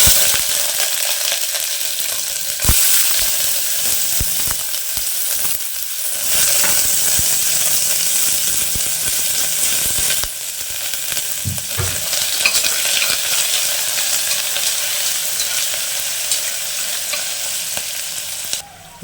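Onions fry in hot oil for a cluster beans curry, a loud steady sizzle broken by scraping and clanking of a spoon stirring the pan, with no talk.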